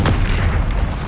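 Confringo fire spell blast in Hogwarts Legacy, a single short loud booming explosion, close and dense, with no voices.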